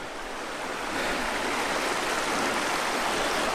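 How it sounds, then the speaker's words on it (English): Algar Falls river flows out of the mountains as a steady, loud, close rush of water, a dense broadband roar that holds constant for several seconds with no voices. "Obviously this river sort of wends its way out of those mountains"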